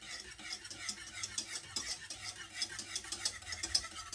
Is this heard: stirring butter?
yes